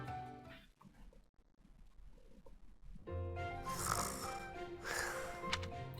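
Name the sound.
character snoring in video game Fire Emblem: Three Houses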